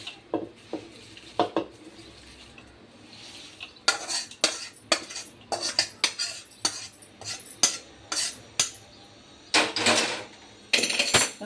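Spoon scraping and clattering against a metal pan while fried spices are tossed into poha chivda, irregular bursts of clinks and stirring scrapes, close and fairly quiet with no talk.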